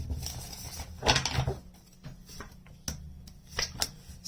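A tarot deck shuffled by hand close up, several quick papery riffles and taps in an uneven rhythm, fairly quiet, with no talking.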